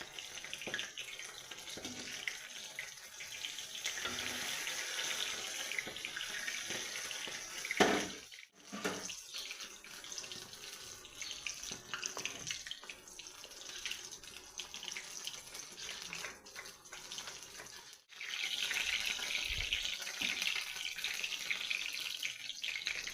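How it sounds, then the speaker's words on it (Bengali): Cabbage rolls frying in a pan of hot oil, giving a steady close sizzle and crackle that carries on for over twenty seconds, with a couple of brief breaks in the sound. "এই যে গরম তেল, তেলটা কেমন ফুলছে।"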